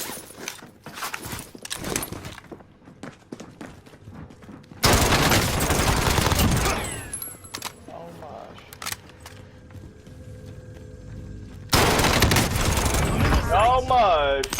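Video game gunfire in rapid bursts and sustained volleys, loud and close, with players' voices chatting over and between the shots.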